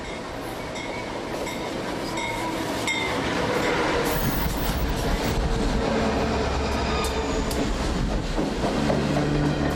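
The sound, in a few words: passenger train running on rails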